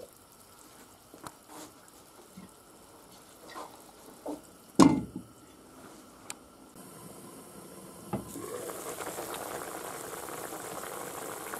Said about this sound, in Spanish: Ahí está reduciendo el vino ya.